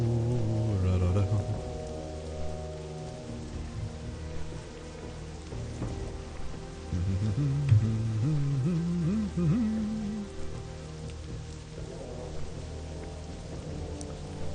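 Rainfall weather effect in the video game WoW Classic, a steady wash of rain under music-like tones and intermittent voice sounds, continuous and moderately loud throughout.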